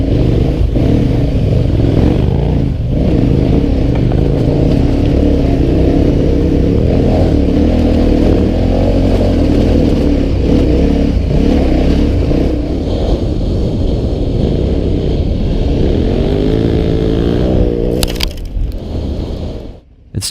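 A KTM 1190 R Adventure motorcycle ridden off-road on steep, rough, greasy hills, its engine droning loud and steady with rises and falls in revs and some clatter, close up and without talk, before cutting off at the end.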